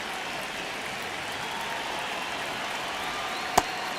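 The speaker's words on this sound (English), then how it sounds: "crowd getting settled here at Dodger Stadium" Steady, diffuse stadium crowd murmur from MLB The Show 26 at Dodger Stadium, a continuous even wash of distant voices with one sharp brief crack near the end.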